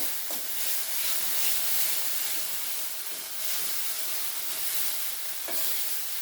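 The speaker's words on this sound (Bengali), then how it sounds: "দিয়ে আমি অল্প আঁচে এটাকে একটু কষিয়ে নেব।" Fish curry spices with green chilli paste frying slowly in a pan over low heat, giving a steady soft sizzle and hiss with occasional stirring scrapes, no talking.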